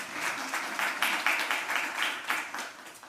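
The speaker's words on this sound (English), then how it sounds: "let's clap for that." Modest applause at a domestic violence symposium, individual claps clearly separable in an uneven rhythm from a smallish audience, fairly quiet and lasting about three seconds.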